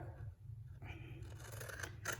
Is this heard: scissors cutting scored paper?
yes